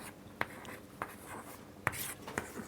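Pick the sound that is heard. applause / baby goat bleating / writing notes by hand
writing notes by hand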